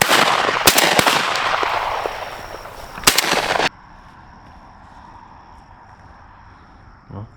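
Shotguns fire during a Texas dove hunt, two sharp loud blasts about two seconds apart over outdoor hiss, then a quieter field with insects and a faint thump.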